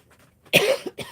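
A single sharp cough bursts out close by, followed by two shorter throat-clearing hacks in quick succession, with quiet room tone before it.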